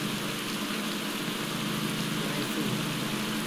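Steady broadband rain hiss runs unbroken and fairly loud throughout a wet stage of the Pro Cycling Manager 2020 cycling game, with no pauses or distinct drops standing out.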